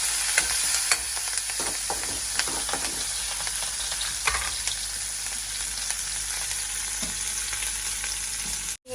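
Curry leaves and green chillies fry in a pan with onion, giving a loud, steady sizzle and crackle with occasional stirring clinks throughout.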